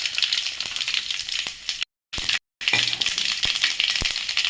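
Mustard seeds crackle and pop in hot oil for bun dosa, a dense, steady sizzle with sharp ticks, close and loud, broken by two brief silences.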